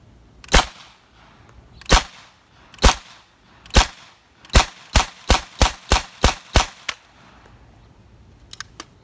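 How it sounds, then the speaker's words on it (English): Eagle 45 Tommy Gun firing, loud sharp cracks close by, first spaced singly then in a quicker run of about eight shots, followed by faint mechanical clicks. "All you gotta do is pull the trigger. So we'll see a few rounds of being shot at."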